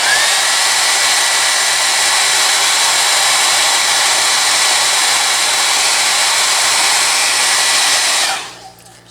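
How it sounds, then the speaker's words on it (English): Hair dryer blowing steadily and loudly at close range over the paint on a custom Godzilla MUTO action figure, a continuous airy whoosh that cuts off near the end. "So take my hair dryer, go back over it one more time."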